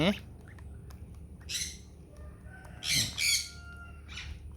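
A grey Chinese gosling gives several short, shrill squawks in quick bursts, fairly close, over a low background hum with faint voice nearby.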